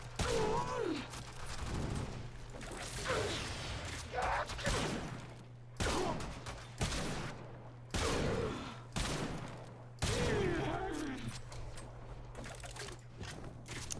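Kuva Chakkhurr gun in Warframe firing a steady series of loud, heavy blasts, roughly one every second or two, each with a ringing, mechanical tail, with no talking over them.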